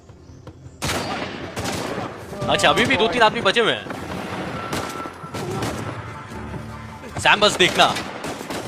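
Gunfire in the video game Uncharted 4, with sniper rifle shots: a few sharp, loud shots ring out under and between stretches of in-game talk from several characters.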